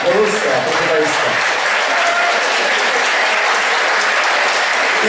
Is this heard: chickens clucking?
no